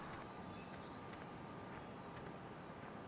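A train in the video game Farming Simulator rumbles as a dense, steady mechanical roar, loud and close throughout, with no voices.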